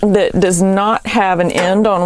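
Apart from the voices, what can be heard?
None of the usual background noises is heard.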